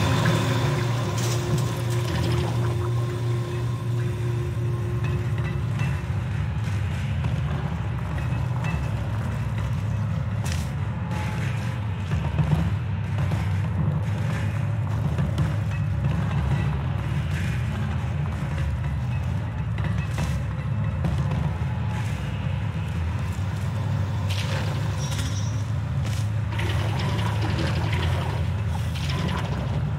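Goo draining machinery in the Aperture Tag video game gives a steady, loud low rumble with a churning, flowing-liquid wash, continuous and unchanging for the whole stretch with no voices.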